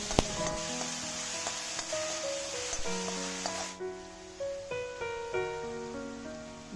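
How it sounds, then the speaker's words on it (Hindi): Finely chopped onion fries in hot desi ghee, a steady close sizzle with soft crackles and stirring under background music, no talking. "उसके बाद आपको डालना है प्याज, जो महीन कटा हुआ प्याज है वो उसमें आपको डालना है और अच्छी तरह से उसको भून लेना है।"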